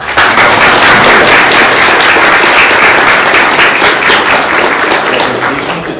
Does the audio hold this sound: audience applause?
yes